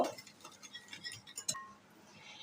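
Sugar and egg are mixed in a bowl, with a spoon giving quick, light clinks against the side of the bowl, close and faint, with no voices.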